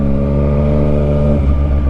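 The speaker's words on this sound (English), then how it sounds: "Oh boys, I love the sound of his bike now." A motorcycle engine rumbles loud and close on a ride toward Matlock, a steady harmonic drone that shifts pitch as the revs change near the end, with no talking over it.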